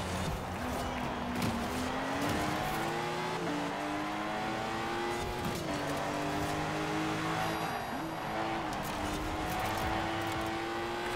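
Engine of a Lotus Elise GT1 race car in Forza Horizon 4, a steady loud drone that climbs and drops through gear changes as it accelerates, continuous for the whole stretch.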